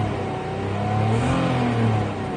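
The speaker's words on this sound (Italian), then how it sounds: "Se io do gas piano piano, leggero tartagliamento appena appena" A car engine with a faulty ignition coil is given gentle throttle at low revs, producing a steady, close, loud drone with a faint stutter from the misfire.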